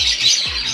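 Squawk from a green Fischer's lovebird with mottled feathers: a short, harsh, bright call held close and loud for under a second, alone with no talk.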